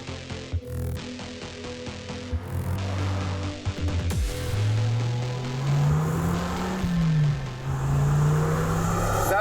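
Dodge Viper engine revving while driving, a loud continuous drone that rises and falls through the gears with a steady low rumble, heard from inside the open car with some wind.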